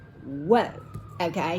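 Emergency vehicle sirens pass outside, their rising and falling wail heard faintly behind a nearby voice that talks over them.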